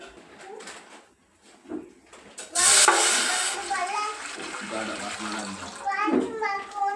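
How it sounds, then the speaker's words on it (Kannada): Water is poured into a cooking pot for boiling in a home kitchen. The splashing, rushing pour starts partway through and continues under a person talking. "ಒಂದು ಪಾತ್ರೆ ಇಟ್ಕೊಂಡಿದ್ದೀನಿ. ಅದಕ್ಕೆ ನೀರು ಎಷ್ಟು ಬೇಕೋ ಅದು ಬಾಯ್ಲ್ ಮಾಡಲಿಕ್ಕೆ ಅಷ್ಟು ನೀರು ಹಾಕೊಳ್ಳೋಣ"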